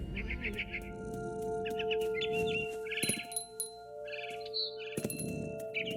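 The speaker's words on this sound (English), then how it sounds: "Then I heard chirping outside my window. It was a barn swallow going back to her nest." A barn swallow chirps in the video game What Remains of Edith Finch, with bursts of short, bright tweets repeating across the clip over a bed of steady game ambience and tones.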